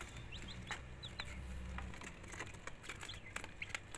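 Young Light Sussex laying-hen chicks cheep in brief scattered bursts, with soft pattering and rustling beneath and a low rumble through the first half.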